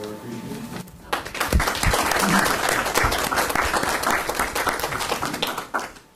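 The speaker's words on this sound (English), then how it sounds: "we can give them a round of applause to show our appreciation" Members at a Board of Education meeting break into a burst of applause after a brief quiet moment. The clapping holds full and steady for several seconds, then drops off abruptly, with faint voices underneath.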